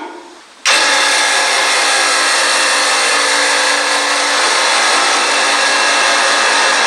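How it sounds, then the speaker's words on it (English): A vacuum pump switches on abruptly and roars steadily, drawing air out of a glass chamber holding a balloon and a straw; the noise is loud, close and constant. "Let's suck the air out with this balloon in chamber and see if the vacuum works well"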